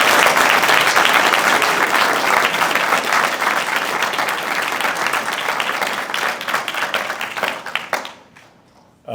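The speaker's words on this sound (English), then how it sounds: "I think they deserve a round of applause from you." Audience applause at a fire recruit graduation ceremony, a dense, loud sustained clapping from a large crowd that holds steady before thinning into scattered claps and quickly fading out near the end.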